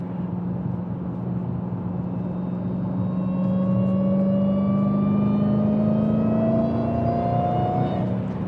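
Supercharged Dodge Hellcat with a manual gearbox, its engine rumbling steadily as it rolls into throttle, pitch climbing smoothly and continuously with a rising supercharger whine over the drone, close and loud, no talk.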